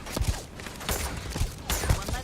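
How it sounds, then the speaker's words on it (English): Orion laser rifle firing in Starfield, several short sharp shots spaced roughly half a second apart, moderately loud over faint background noise. "just found a weapon called Orion. Laser rifle."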